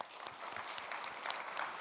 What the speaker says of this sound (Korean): 김장하느라고 수고한 분들 박수 한번 하겠습니다